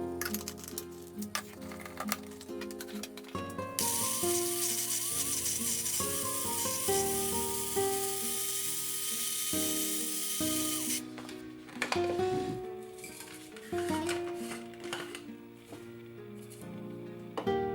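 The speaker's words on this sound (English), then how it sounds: "going to be grinding it up as fine as possible into as much of a powder as I can" A small electric grinder whirs loudly, its high buzzing pitch shifting as contents are ground, with rattling and knocking at the start and end.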